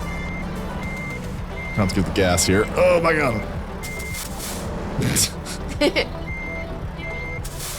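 Reversing beeps from a truck backing up in American Truck Simulator, a steady repeating electronic tone running through the clip with road engine noise beneath and people talking over it.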